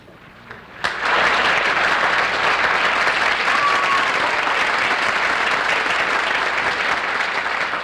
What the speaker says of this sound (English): That applause was a little delayed